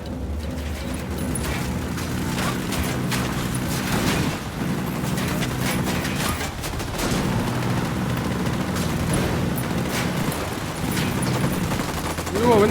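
Gunfire in the video game Ghost Recon Wildlands during a mission to protect El Pulpo, with rapid, repeated shots and bursts over dense, continuous combat noise, mixed with voices.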